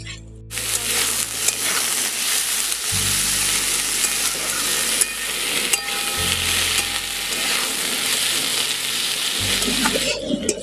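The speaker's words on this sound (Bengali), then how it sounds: "পেঁয়াজ কলিগুলো একটু ওর সঙ্গে একটু ভালো করে ভেজে নিচ্ছি, তাহলে কিন্তু ভর্তার স্বাদটা একটু ভালো হবে।" Onion flower stalks frying in a pan for a mashed bharta, a steady close sizzle with occasional stirring scrapes, over a low humming background.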